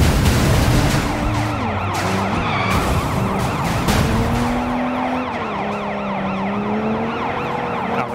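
A Sleeping Dogs video game police car siren wails loudly and close in a steady rising and falling cycle over a droning car engine, with a second siren layered in, the scene otherwise free of talk.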